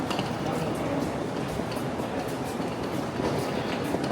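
A train pulls out of an underground station in Japan, its steady rumble and rattling wheels filling the tunnel continuously and loudly.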